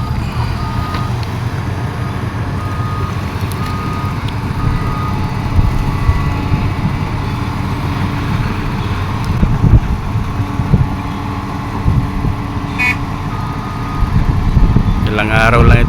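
A backhoe working near a truck, its diesel engine droning steadily with clanks of the bucket and a reversing beeper sounding, while people talk nearby.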